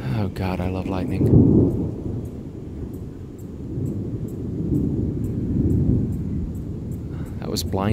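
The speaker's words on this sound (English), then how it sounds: "the storm is definitely getting closer" Thunder from an approaching storm rumbles long and deep over steady rain, swelling and fading twice, while a person talks briefly at the start and end.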